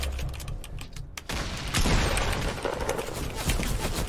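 Gunfire in the video game Fortnite, bursts of rapid shots and crackling impacts over a busy game soundscape, with talk in between.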